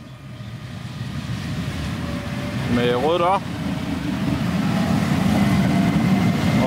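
Inside a Danish A4 commuter train near Lunderskov station, a steady rumble of wheels and running gear fills the carriage while someone speaks briefly and a short tonal chime sounds.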